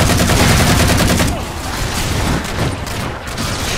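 Rapid automatic gunfire from Halo 4 fills the opening seconds with a loud, dense stream of shots, then gives way to scattered, quieter bursts and mechanical clatter in the game's battle.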